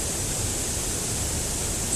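Torrential water pouring over a mill's overflow, a steady, dense broadband roar that holds constant and close throughout, with no voices.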